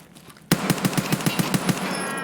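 Rifle fire in Escape from Tarkov, a sudden burst of about ten sharp, evenly spaced shots fired close and loud in quick rhythm, with a ringing tail after the last round.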